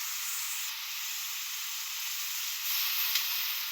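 Dill greens fry in a kadhai with a continuous soft sizzling hiss, steady and close, with a brief louder rustle of stirring near the end.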